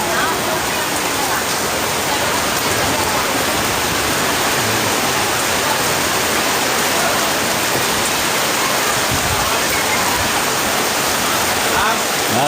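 Heavy rain pouring down outdoors at a religious lecture gathering, a dense, loud, constant hiss of water with no break, filling the whole stretch.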